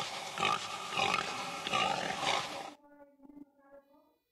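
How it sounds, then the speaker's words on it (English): A pig grunts and snorts in rough, noisy bursts for a few seconds, loud and close, before a softer voiced tone trails off at the end. "Pig."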